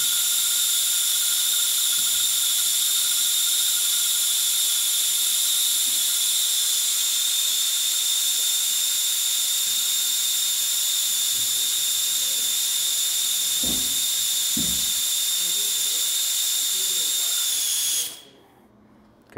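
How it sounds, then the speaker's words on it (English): Brake fluid is drawn out of the brake line on a Janus 250 motorcycle: a loud, steady hiss with a whistling edge runs continuously before cutting off abruptly near the end. "put the line on there. And then what you can do is just draw the fluid out"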